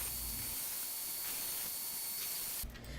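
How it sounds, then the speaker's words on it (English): A belt sander deburring stainless steel in a workshop gives a loud, steady broadband hiss that runs without a break, with a low motor rumble at the start and again near the end. "And now I'm in the shop deburring the stainless with the belt sander."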